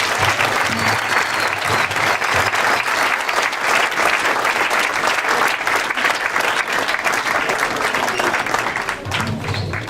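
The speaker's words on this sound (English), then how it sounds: "let's give them a nice round of applause." A large audience gives a sustained round of applause for the academy's teaching staff at a closing ceremony, a loud, dense, continuous clatter of many hands that fills the whole stretch and eases slightly at the end.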